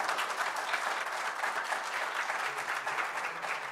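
Dense, even applause from a seminar audience after a lecture, a steady wash of many hands at moderate distance holding constant from start to finish with no talk over it.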